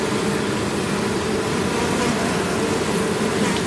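Dense, steady buzzing of many honey bees close by at an open hive during a split, a continuous droning hum with no pauses.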